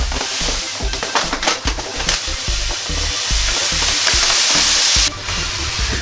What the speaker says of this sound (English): Now I'm going to get my grains into here, making a point to stir them as much as possible so that they don't clump.